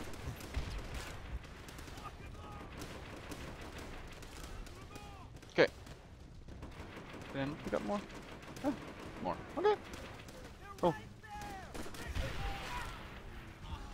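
Scattered gunshots in Call of Duty: World at War crack out at irregular intervals, some sharp and close and others fainter, over a fairly quiet background with a voice murmuring now and then.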